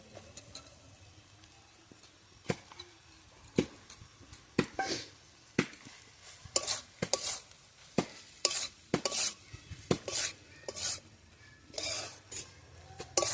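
Metal spatula clinking and scraping in a pan as fried eggs are stirred into cooked onion greens for egg bhurji, a series of sharp, irregular taps and scrapes, close and fairly quiet.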